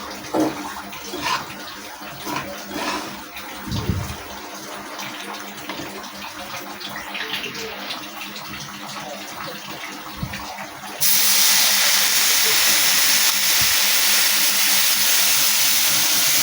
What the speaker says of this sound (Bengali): আমি একেবারেই বেশি করে জল দিয়ে দেব না অল্প অল্প করেই জল দেবো